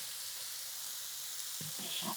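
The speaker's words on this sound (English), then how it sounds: "When you hear the pan sizzle, that means the pan is nice and hot." A hot pan sizzling during cooking, a steady bright frying hiss throughout with a few soft stirring knocks near the end, no voices.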